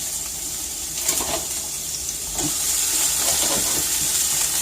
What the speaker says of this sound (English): We're going to add in about half of these onions here. And let those cook down just a minute.